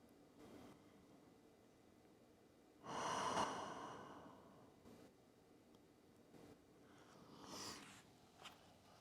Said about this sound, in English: Another round of breath.